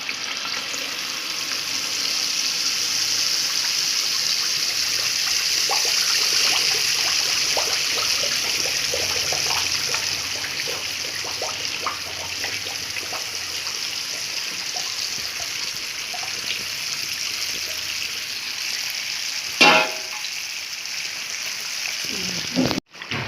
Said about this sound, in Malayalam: നമ്മുടെ ഓയിൽ ചൂടായി വന്നിട്ടുണ്ട്, നമ്മുടെ മാവ് ഒഴിക്കാൻ പോവുകയാണ്